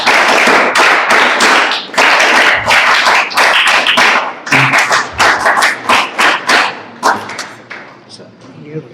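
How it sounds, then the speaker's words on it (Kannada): Schoolchildren clap at an award ceremony honouring SSLC toppers, bursts of loud, dense applause with brief gaps that thins into scattered claps and fades near the end. "ಮಕ್ಕಳ ಚಪ್ಪಾಳೆ ಕಂಟಿನ್ಯೂಸ್ ಆಗಿ ಹೊಡಿತಾ ಇರಿ"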